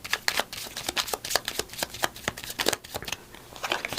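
Tarot cards being shuffled by hand, a rapid series of close, crisp riffling flicks and slaps, fairly loud and continuous with slight pauses, no talking.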